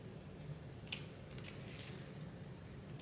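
Sewing scissors snip into fabric seam allowances, making three short, crisp cuts spaced about half a second to a second and a half apart, close and quiet against a faint background hum.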